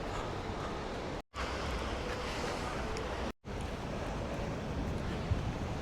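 Ocean surf at Tamarama beach rolls as a steady broadband wash with wind noise, broken by two brief dropouts.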